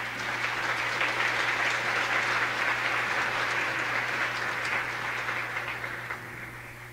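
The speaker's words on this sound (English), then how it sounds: "Let's give him a big applause." Conference audience applauding throughout, a dense steady clatter of many clapping hands that stays fairly even before thinning slightly at the end, with a low steady hum underneath.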